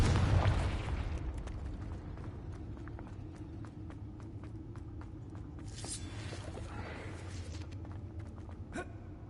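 Confringo blasting spell in Hogwarts Legacy, a heavy explosion opening loud and close and then decaying, followed by a low rumbling bed and a couple of sharp bursts later on.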